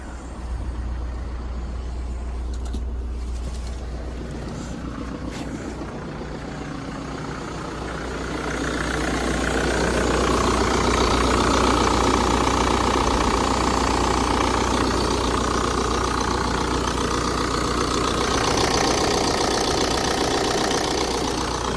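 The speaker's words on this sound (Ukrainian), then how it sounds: "Двигун працює рівненько, без зауважень." The diesel engine of a 2021 BMW 318d idles steadily nearby with a low, even rumble, growing a little louder partway through, no voices.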